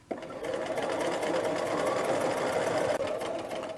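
Close, steady whir of a sewing machine running continuously as it stitches a dress facing, with a brief pause and restart near the end and no talk.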